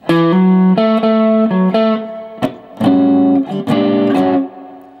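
Electric guitar with an effects unit and slight distortion plays a major blues rhythm lick, choppy strummed chord stabs and short sliding figures in a steady groove, close and loud with no talking.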